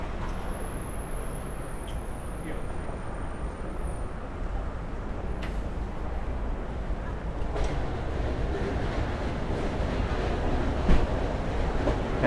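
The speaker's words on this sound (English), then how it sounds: "if you can hear the train tracks, there actually are train tracks running underneath Park Avenue." A steady low rumble of a train running on tracks underground beneath Park Avenue, New York City, continuous and fairly loud, with faint clicks and no talk.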